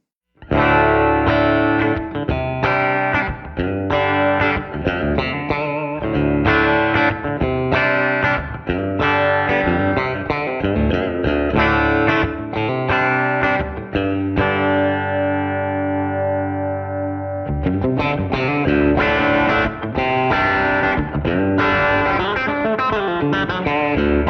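A Fender Acoustasonic Stratocaster acoustic-electric guitar, heard through a PA speaker, plays chords and picked runs with a processed, slightly chorused tone, with one long ringing chord midway; no speech.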